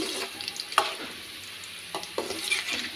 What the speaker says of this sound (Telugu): ఆయిల్ వేసి ఉసిరికాయలు ఇలా బాగా వేపుకుంటున్నామండి